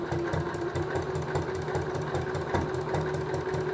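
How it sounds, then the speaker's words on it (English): Sewing machine stitching a cloth menstrual pad, turned and topstitched, running steadily with a continuous motor hum and rapid needle rhythm throughout, close and moderately loud, no talking. "Then you can lift the presser foot and slightly change the angle that you're sewing in."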